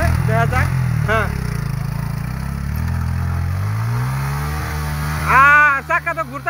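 A motorcycle engine drones and rises in pitch as the rear wheel spins on slippery ground, while people talk and call out over it.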